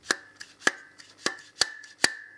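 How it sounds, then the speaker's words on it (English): Car key lock spring mechanism in plastic mounts, sharp clicking snaps with a metallic ring, about six distinct hits at an uneven pace, close and fairly quiet. "It does rattle a bit, so it's probably just the mounts, because it's plastic, so it makes some noise"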